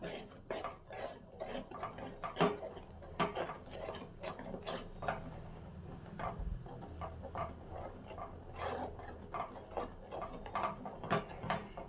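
Ponganalu batter with turmeric and water being stirred in a bowl, a steady run of clinking, scraping spoon-against-bowl sounds in close, irregular rhythm, fairly quiet, with no talk.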